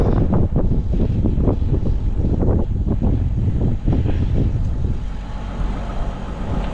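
Wind gusts roar against the microphone outside a Sprinter van, a loud, continuous low rumble that fluctuates and eases toward the end.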